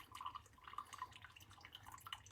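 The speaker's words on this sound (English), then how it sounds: "I'm adding a lot more water up top." Water trickles and drips faintly as it is poured over a coffee brewer, a soft, close, uneven patter in an otherwise quiet space.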